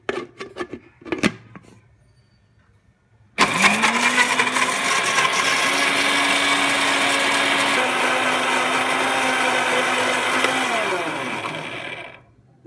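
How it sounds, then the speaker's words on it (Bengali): A kitchen blender whirs loudly and steadily for about nine seconds as it blends aloe vera with jaggery and water, after a few sharp clicks and knocks at the start; the motor slows and winds down at the end. "আমার অ্যালোভেরা জুসটা বানানোর জন্য আমি একটা ব্লেন্ডার নিয়ে নিয়েছি, এতে অ্যালোভেরাটা দিয়ে দিচ্ছি আর আখের গুড় দিয়ে দিচ্ছি"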